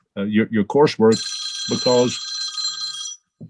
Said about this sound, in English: You can tell I'm old fashioned with that ringtone